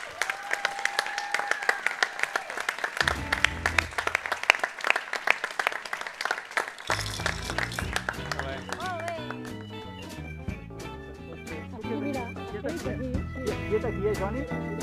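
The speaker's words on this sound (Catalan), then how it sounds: "un par aplaudiment per la Marta" A crowd at a Festa Major contest claps in bursts for several seconds, with voices over it. Then music with a steady beat takes over and the clapping fades beneath it.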